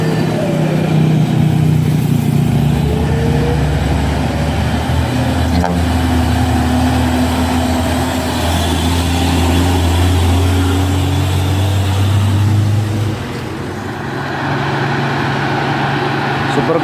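An overloaded Hino dump truck grinds up the hill at Bukit Kodok, its diesel engine a loud, steady low drone under strain for the whole stretch, easing slightly near the end.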